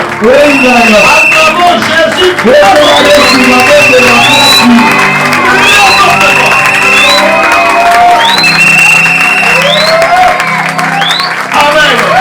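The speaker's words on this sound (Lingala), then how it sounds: "Nous allons acclamer très fortement d'abord." A church congregation cheers and applauds Jesus, loud and sustained, with clapping, whoops and high shouts layered over a dense crowd roar throughout.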